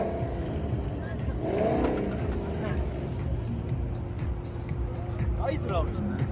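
Corvette V8 engine running at a car meet, a steady low rumble with slight swells in revs, heard close beneath ongoing conversation.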